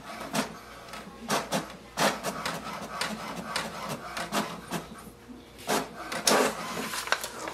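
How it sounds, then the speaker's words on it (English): An HP DeskJet 2842e printer runs a diagnostic sheet, its mechanism making steady, close-up rhythmic clicks, whirs and paper-feed scrapes for several seconds, with no talk. "It's going to print the diagnostic sheet"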